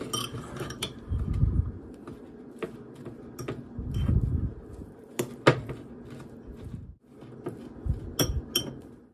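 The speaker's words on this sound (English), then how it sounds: "And then I'm going to stir the cheese into the potato and spice mixture." Cheese being stirred into a potato and spice mixture, with a spoon clinking and scraping against the bowl in irregular bursts and soft thuds of the thick mixture between strokes.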